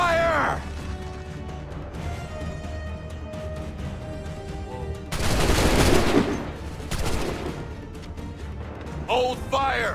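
Musket volleys ring out in a battle in the video game Assassin's Creed 3, a dense crashing burst of gunfire midway followed by a second smaller burst, among loud background clatter, with shouted commands heard around it.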